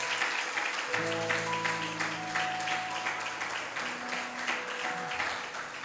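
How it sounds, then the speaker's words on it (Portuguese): Church congregation applauding during a sermon, a fairly dense, steady round of clapping with a sustained tonal hum, likely an organ or keyboard, underneath throughout. "Dá uma salva de palmas aí então."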